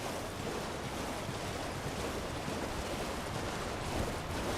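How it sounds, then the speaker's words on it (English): Steady, broadband rush of falling water from a waterfall in Elden Ring: Shadow of the Erdtree, continuous and even in level with no voices. "Any secret behind this waterfall?"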